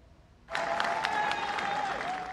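A big, excited crowd outside 10 Downing Street, the British prime minister's residence, cheers and applauds after a Conservative election defeat. It starts abruptly and holds as a dense, loud wash of claps and voices, with a steady tone running underneath.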